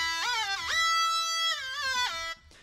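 A bright, buzzy synth lead made in Harmor plays a short phrase of sustained notes with gliding pitch bends, clean and close with no talking.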